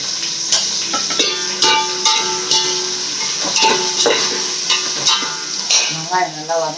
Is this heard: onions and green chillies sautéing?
yes